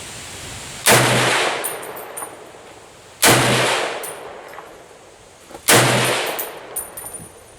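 Three sharp, loud gunshots ring out at an outdoor shooting range, each a hard crack followed by a ringing decay, spaced about two and a half seconds apart with no talking.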